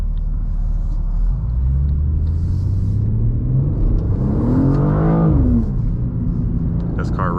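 A 2024 BMW M2 engine rumbles loudly up close, its pitch climbing steadily as it accelerates, then dropping back as the revs fall.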